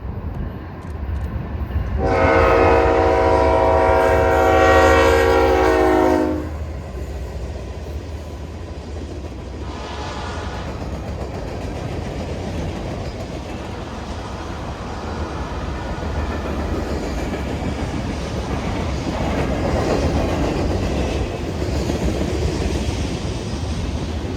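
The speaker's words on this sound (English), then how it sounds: "KCS 4818 East rolls by us with a 1x1 consist, not rare for this train." Eastbound KCS freight train 4818 with a one-locomotive consist rolls past at West Forest near Meridian, Mississippi, sounding a loud, sustained horn blast for several seconds, then a steady heavy rumble of rail cars continuing underneath.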